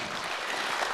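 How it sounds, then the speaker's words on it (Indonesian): A brief burst of dense audience applause fills a hall during a televised public debate between candidates for mayor and deputy mayor of Ternate in 2024, continuous with no breaks. "Kita boleh minta tepuk tangannya sekali lagi."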